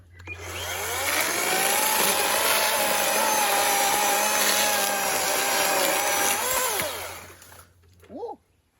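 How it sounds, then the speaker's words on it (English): A Greenworks battery chainsaw whines up and cuts steadily through wood for about six seconds with a buzzing, rising and falling pitch, then winds down to a brief whir. "you can hear the chain and you can hear the buzzing as it's cutting"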